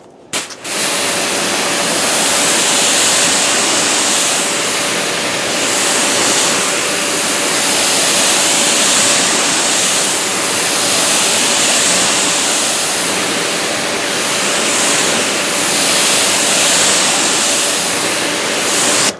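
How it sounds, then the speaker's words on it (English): A steady, loud hiss of water sprayed continuously onto sealant-coated car paint, an even rushing spray lasting around eighteen seconds with no voices. "All right, let me hit it with some water."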